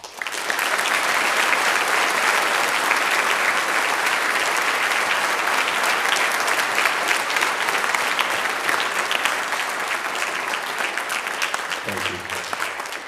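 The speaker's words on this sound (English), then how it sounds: "let's give all our veterans here present a round of applause" Students and staff at a school Veterans Day program give the veterans present a long, loud round of applause, a dense sustained wash of clapping that stays even before tapering slightly, with a brief voice near the end.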